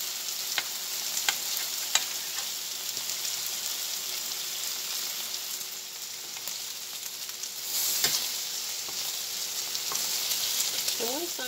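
Bacon frying in a pan, a dense continuous bright sizzle with scattered sharp pops and crackles, loud and close, a few clinks of utensils, no talk.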